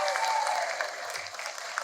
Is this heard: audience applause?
yes